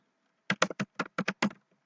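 Typing on a computer keyboard: a quick burst of about seven crisp keystrokes, close and clear in a quiet room.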